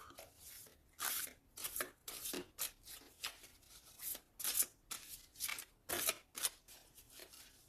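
Tarot cards being handled, shuffled and cut close up, a quick run of crisp papery riffles and slaps in short irregular bursts with brief quiet gaps between them.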